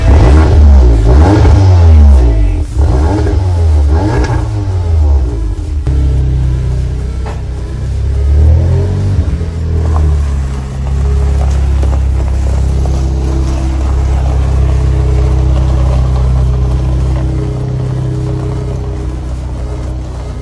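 VW Golf R with its centre resonator deleted pulls away, a loud deep exhaust rumble and rev that settles into a steady drone as it moves off, with no talk.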